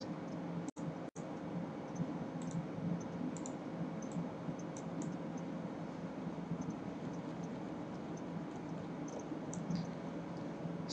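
Two quick, sharp calculator button clicks come close together near the start while the clear key is pressed, then only a low, steady background hiss remains.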